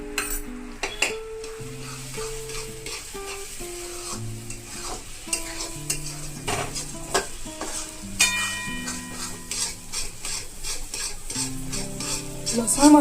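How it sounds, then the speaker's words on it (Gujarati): Garlic and green chillies frying in oil in a pan, a steady close sizzle with repeated scraping and stirring clatter of a metal spoon throughout, no voices. "તેલમાં શેકાઈ પણ જશે."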